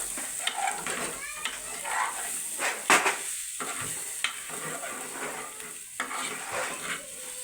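Chicken curry in a pot is stirred with a spoon. Close scraping and clinking strokes run over a soft background sizzle, with a few louder knocks and pauses, and no one speaking.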